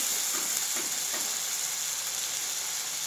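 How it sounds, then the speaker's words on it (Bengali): Cumin paste frying in a pan sizzles with a steady bright hiss while a utensil stirs it, making a few soft scraping strokes, heard close and alone. "একটু চালাবো যেমন পুড়ে না যায়"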